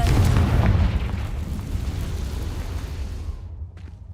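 A Confringo blasting-curse explosion in Hogwarts Legacy: one loud, deep boom right at the start that rumbles and slowly fades away over several seconds.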